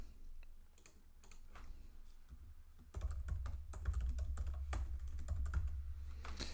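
An email being typed on a computer keyboard: quiet, irregular key clicks at first, then a denser, louder run of tapping for the remaining seconds.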